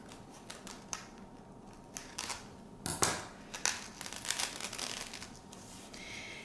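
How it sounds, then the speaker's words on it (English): Scissors snip through the plastic netting around a bagged orchid, producing a run of crisp cuts and crinkling rustles, close and fairly quiet, with a louder burst of clipping toward the middle. "Okay, let's cut that away."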